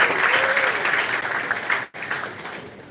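An audience at a live bioethics session applauds, dense sustained clapping with a brief cut near the middle, then continuing at a slightly lower level.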